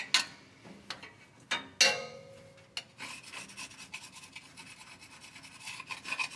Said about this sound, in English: So we're going to get as much of that off as we can with the scraper.